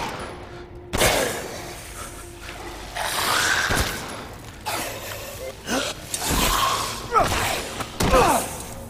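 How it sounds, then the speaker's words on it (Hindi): Upgraded shotgun blasts against enemies in Resident Evil Village, Lycan's Stronghold, several loud booming shots spaced over gameplay noise and a tense game score. "इनको शॉटगन भी दो दो बार मारना पड़ता है, वो भी अपग्रेडेड वाला।"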